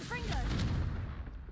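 A Confringo fire spell goes off in Hogwarts Legacy as a loud, whooshing blast with a booming low rumble that fades fast. A voice speaks over it.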